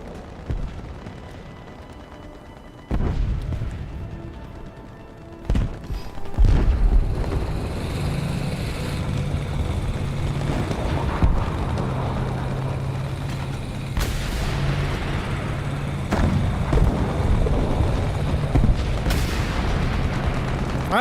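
Helicopters in the War Thunder game fly amid a dense, continuous battle din: steady rotor and engine roar with repeated heavy booms and gunfire bursts throughout.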